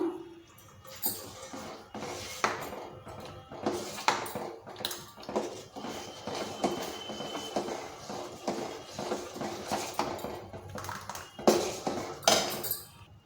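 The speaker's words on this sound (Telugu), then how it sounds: "రాగి పిండి పోస్తూ ఒకసారి మొత్తం కలుపుకుందాం" A spoon stirs ragi flour into sago payasam in a metal pot, giving soft scraping and intermittent clinks and taps against the pot, fairly faint and irregular over a quiet kitchen background.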